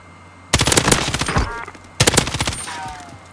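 Gunfire in the video game Call of Duty Warzone, with two loud bursts of rapid automatic fire from what is likely an M13 rifle, one at about half a second and another at two seconds, each trailing off.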